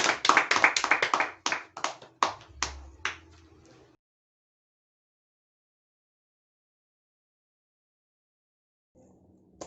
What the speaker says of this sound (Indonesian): Untuk yang lain beri aplaus dulu untuk Emi